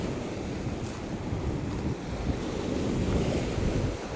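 Sea waves wash onto the shore at the water's edge, a loud continuous broadband surf roar mixed with wind buffeting the microphone, no voices.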